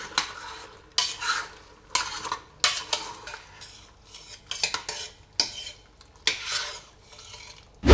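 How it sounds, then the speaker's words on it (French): A spoon stirs peach preserve sweetened with vanilla and maple syrup in a pot, making repeated scraping strokes against the metal with quiet pauses between them. "Je mélange."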